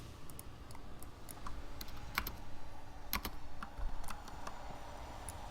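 Quick, irregular clicking of computer keyboard keys during a World of Warcraft session, close and fairly loud, with a few sharper key strikes mixed into the steady run of taps, over faint game background sound.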